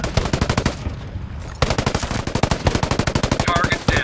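Rapid automatic gunfire in the tactical shooter Ghost Recon Breakpoint during a PvP match, loud close bursts of evenly spaced shots with a short pause before a longer sustained burst.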